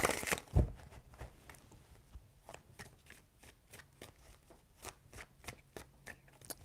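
Tarot cards being shuffled, a loud riffle at the start followed by a series of soft, rhythmic flicks and taps close by.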